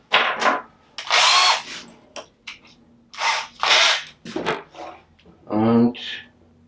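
An electric drill bores into wood for a homemade chisel case, in several short whirring bursts separated by pauses, close and loud, with a voice in between.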